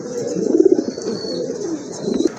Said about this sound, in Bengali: ও আরেক জোড়া কবুতর চলে আসছে এখানে